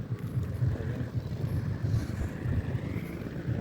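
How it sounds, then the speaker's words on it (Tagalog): Wind buffets the microphone, producing a continuous low rumbling roar with no voices present. "Mahangin dito."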